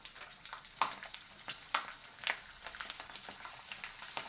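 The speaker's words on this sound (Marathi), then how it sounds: "साबुदाणा चकल्या तळून घेण्यासाठी तेल कडकडीत गरम करून घेतलं आहे आता आपण याच्यामध्ये चकल्या घालून घेऊया" Sabudana and potato chakli frying in very hot oil, giving a soft, steady sizzle with scattered louder pops and crackles, heard alone without speech.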